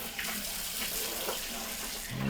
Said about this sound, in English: let's check the sprayer out. We're going to pull the sprayer out.